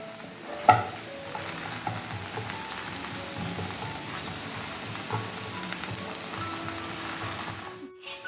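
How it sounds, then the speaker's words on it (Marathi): Fasting thalipeeth fries in a little oil, giving a continuous even sizzle with faint stirring or turning noises, a sharper clatter near the start and a sudden stop near the end; no one speaks. "कमी तेलामध्ये आपलं थालीपीठ कसं छान भाजून झालेलं आहे"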